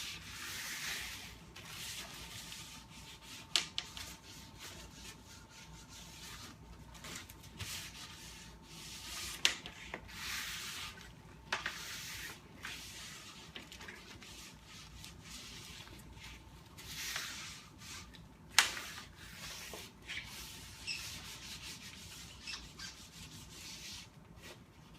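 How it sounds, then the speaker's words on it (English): A sponge wipes and smooths glue across wood strips for a bent lamination, a steady soft rubbing and scrubbing that runs throughout with a few sharper scrapes and knocks, close and fairly quiet. "And then I use the sponge just to even it all out."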